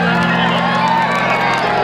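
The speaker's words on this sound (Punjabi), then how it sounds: "ਇੱਕ ਵਾਰ ਤਾੜੀ ਲਾ ਦਿਓ" A live audience at a Punjabi stage show in Pharala claps and cheers, a dense continuous roar of crowd noise with whoops, mixed with voices.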